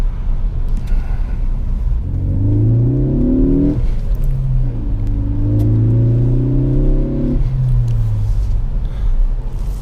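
A 2017 Ford Focus ST with a manual transmission accelerates hard on snowy, slippery roads; the engine revs up in two strong pulls with a brief drop for a gear change between them, loud and close from inside the cabin.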